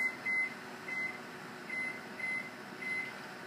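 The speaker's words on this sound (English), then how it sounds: "So our timer's set" An oven timer in a home kitchen beeps in short electronic bursts, six evenly spaced pulses over a few seconds against a soft background hum, with no talk.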